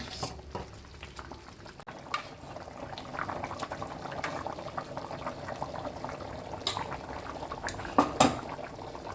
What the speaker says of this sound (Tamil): இப்போ சுகர்லாம் கரைஞ்சிட்டு நல்லா கொதிக்க ஆரம்பிச்சிருக்கு.